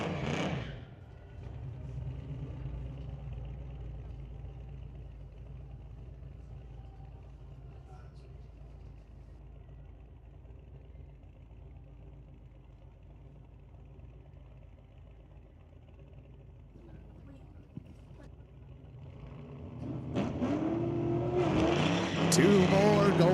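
Tuner cars racing at Mission Raceway Park in Vancouver: a distant engine rumble and drone that stays low for a long stretch, then swells into loud revving and roaring near the end, with a commentator talking throughout.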